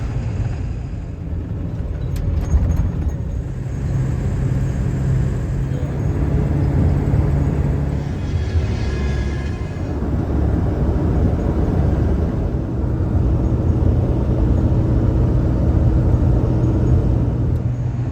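A vehicle hauling a dumpster cruises on a long highway drive toward a mountain pass, giving a steady low road and engine drone heard from inside for the whole stretch, without talk.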